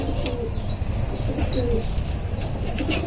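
A silver main hen pigeon coos quietly at home, its low rolling calls sitting in a steady wash of background noise with a few faint higher chirps.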